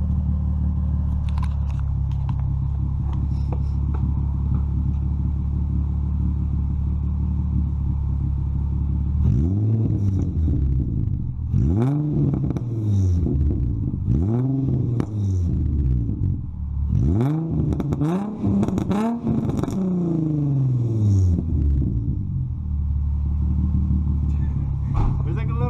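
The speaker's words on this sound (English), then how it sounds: "Let it warm up, and then I'll give it a few revs right now." Nissan 350Z fitted with an Agency Power exhaust, first idling, then revved in several sharp bursts with rising and falling tones, loud and close.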